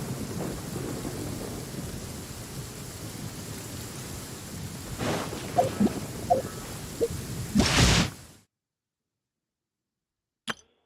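Steady rain and rumbling thunder from a Genshin Impact storm near Mondstadt's cathedral, with a loud thunderclap crackling near the end before abrupt silence and a brief final tick.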